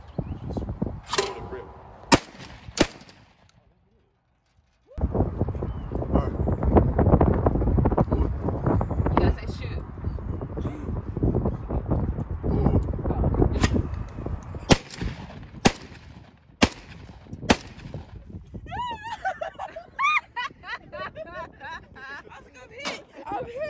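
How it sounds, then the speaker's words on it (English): Shotgun shots at an outdoor skeet range, several sharp cracks spaced apart, some close and loud, others softer, with wind buffeting the microphone and people talking between shots. "it's pretty much when someone says, pull, and you just, you know, aim and shoot"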